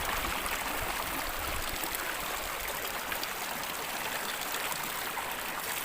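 Cold water from a spring flows in a steady, close, hissing trickle that continues unbroken throughout.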